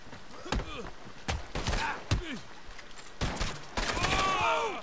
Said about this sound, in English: Guys, there's so much shooting.